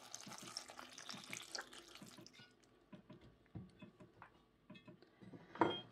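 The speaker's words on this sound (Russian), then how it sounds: "Так что промою их кипяченой водой" Cooled boiled water is poured over pasta in a sink to rinse away starch, a faint close trickle and splash with scattered drips and a clink near the end.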